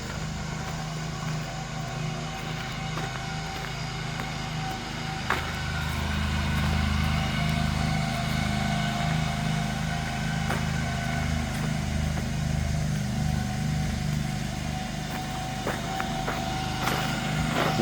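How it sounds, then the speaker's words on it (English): A lawn mower cutting grass in a park gives a steady, low engine drone that runs without a break, growing a little louder partway through and staying fairly close, with no voices over it. "There's the guy mowing, there's all the noise."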